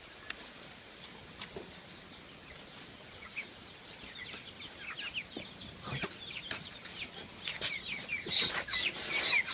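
Chickens cluck and chirp in short scattered bursts, sparse at first and growing busier and louder toward the end, over a quiet outdoor background.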